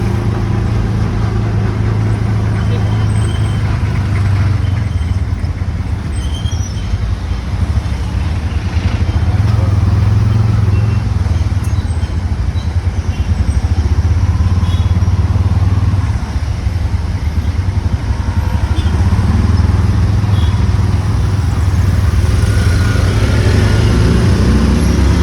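Tuk-tuks and cars fill a street in Colombo, Sri Lanka, with a continuous loud rumble of idling and passing engines and a low droning hum throughout.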